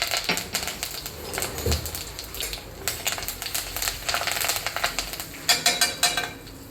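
Sesame seeds, cumin, asafoetida and curry leaves splutter in hot oil for a khichu tempering. Irregular sharp pops and crackles sound up close and grow denser and louder toward the end.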